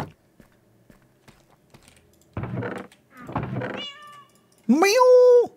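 Cat meowing nearby, one clear rising-falling meow after some rustling and munching noises, with people talking at times.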